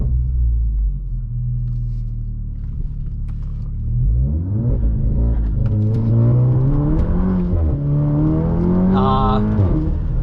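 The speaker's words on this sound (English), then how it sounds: "I got wheel spin on all 4 wheels. Really bogged down there" An Audi A3/S3 launching hard in dynamic mode with all four wheels spinning, a loud close engine rumble that rises steadily in pitch as it revs, with a brief high whine near the end.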